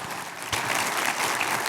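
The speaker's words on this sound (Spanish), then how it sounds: "Dale ese aplauso al Señor" Steady applause from a church congregation, dense clapping that swells slightly partway through and continues without a break.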